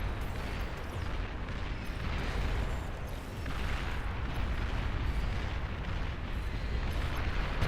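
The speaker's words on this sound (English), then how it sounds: "Long-range plasma cannons are targeting your units." Long-range plasma cannon fire in the real-time strategy game Beyond All Reason, a dense continuous barrage of rumbling booms and bursts layered together at steady loudness, with no talk over it.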